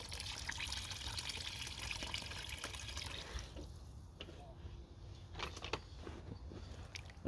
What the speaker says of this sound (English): So I'm actually going to use some of the liquid from the hemp as well.